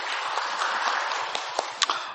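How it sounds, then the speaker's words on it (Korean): Church congregation applauding together during a Sunday worship service, a steady wash of many hands clapping at moderate volume with a few sharper individual claps standing out near the end. "영광의 박수를 주님께 돌리십시다"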